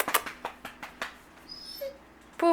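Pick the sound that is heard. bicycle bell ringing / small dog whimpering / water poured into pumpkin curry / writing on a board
small dog whimpering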